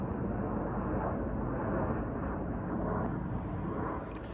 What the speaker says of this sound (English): once this airplane goes by